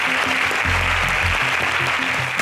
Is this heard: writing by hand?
no